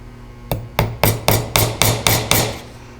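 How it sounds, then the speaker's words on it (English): A hammer taps wood eight times in a steady, even rhythm, each strike sharp and close, with no voices, while assembling a glued tool box. "from right there I'm going to tap it"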